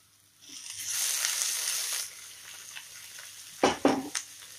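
Onions and tomatoes are fried in a pan, a bright hissing sizzle that swells for about a second and a half and then eases, followed by a few sharp stirring scrapes and clatters near the end.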